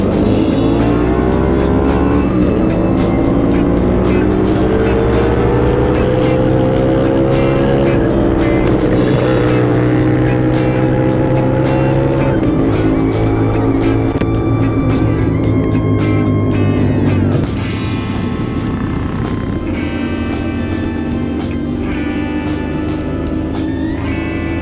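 Engines from a group of CFMoto motorcycles roar continuously as the riders pull away together, loud and close, with revving that rises in pitch and then drops to a steadier drone partway through.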